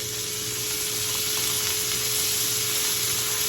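Onions, carrots and celery sizzling in a pan just used for browning beef shanks, a continuous close hiss of frying with a faint steady hum underneath and no talk.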